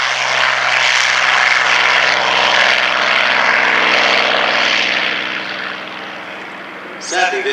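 A small propeller aeroplane at an airshow drones steadily overhead with a throbbing engine hum, slowly fading as it moves away.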